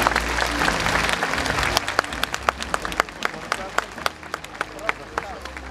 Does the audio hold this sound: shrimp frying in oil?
no